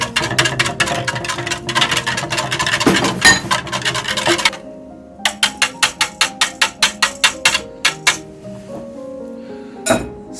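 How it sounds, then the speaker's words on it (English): Wet ingredients with granulated sugar and salt whisked in a bowl: fast continuous clinking and scraping of the whisk, then a run of evenly spaced sharp taps against the bowl rim, close and fairly loud. "Give that a good whisk."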